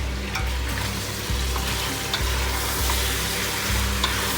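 A tajine with paprika and spices stirred in a sizzling pan, a steady loud frying hiss with periodic scrapes and knocks of the spoon, close up and without any talking.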